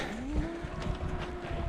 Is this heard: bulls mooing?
yes